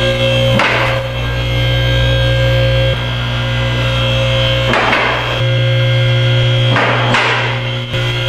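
Two-post car lift, a TP9KACX / HD2P-9000ACC installation, raising a car under a loud steady motor hum, with sharp metallic clicks from its safety locks catching at intervals, sometimes a pair of clicks slightly apart.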